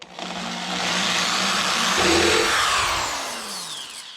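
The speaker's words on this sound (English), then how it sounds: "I am using my step bit. This is actually making drilling the holes a lot easier, a lot faster" A power drill with a step bit whines loudly as it grinds through the metal of a snowblower impeller, rising into a harsh, steady screech before easing off slightly near the end.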